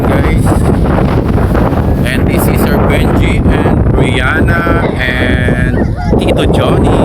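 Strong wind buffeting the microphone at a beach resort, loud and continuous roaring gusts with people talking and greeting each other over it.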